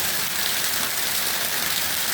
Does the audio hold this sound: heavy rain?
yes